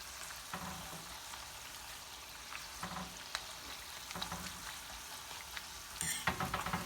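Corn tortilla tostadas fry in a pan with a quiet, continuous crackling sizzle, punctuated by occasional louder pops and light scrapes toward the end, heard close but at low volume.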